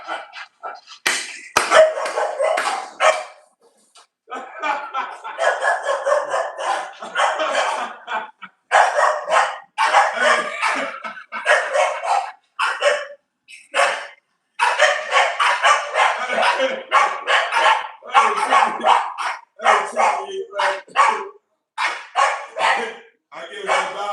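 A dog, an American Bully, barks in repeated bursts close by, interleaved with someone talking throughout.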